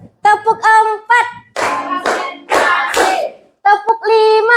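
A class claps together in short, crisp bursts as part of a rhythmic clap routine, with loud clustered hand claps between stretches of a teacher's voice calling out the pattern.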